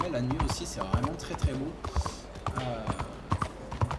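Hooves of a galloping horse in Red Dead Redemption II clop in a steady rhythm through the night streets of Saint-Denis, heard under someone talking in French.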